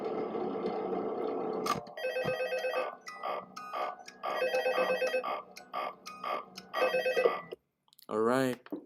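A telephone rings repeatedly in the horror video game FNAF 2, with regular electronic bursts beginning after a short stretch of droning ambience, loud and up close, followed by a brief rising warble near the end.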